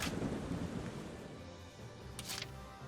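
A thunderstorm in the video game Valkyria Chronicles 4 (PS4) makes a dense, steady wash of rumbling rain and distant thunder that fills the whole clip at moderate volume, with no talking.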